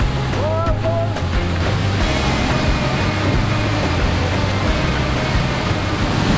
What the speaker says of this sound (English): Right now we're in front of this waterfall.